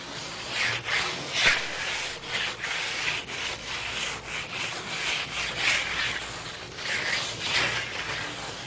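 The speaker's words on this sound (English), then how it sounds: "just take a float like this, not float the surface, and all you're actually doing is just eliminating any trowel marks." A hand float is swept back and forth across a fresh limestone plaster finish, giving a steady close rasping scrape in rhythmic strokes with no talk.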